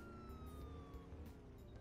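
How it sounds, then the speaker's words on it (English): Police-style car siren in the Roblox game Mad City, a steady wailing tone gliding slowly downward, loud and continuous over game engine rumble, with no talking. "would you please drive to the other side and turn your siren off on the way?"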